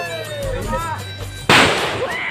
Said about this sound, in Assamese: এই বোমা দিব এতিয়া